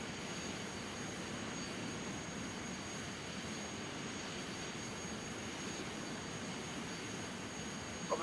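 A jet airliner's engines roar steadily on the takeoff roll in Flight Simulator X, a constant broadband rumble with a faint high whine that stays even throughout, with no voices.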